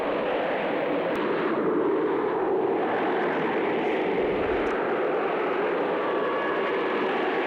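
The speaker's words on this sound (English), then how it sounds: "The wind is blowing so much." Strong wind roars steadily through a scene in the 1980 horror film Cataclysm, a dense, continuous rushing noise with a deep low rumble beneath it that never lets up.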